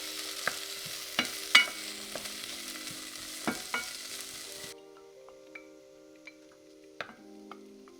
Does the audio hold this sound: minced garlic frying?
yes